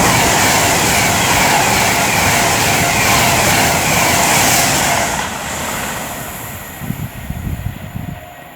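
An Avanti West Coast class 390 electric train, unit 390154, approaches Lichfield Trent Valley station with a loud, broad roar and rushing rail noise that fades after about five seconds into lower rumbling and clattering wheels.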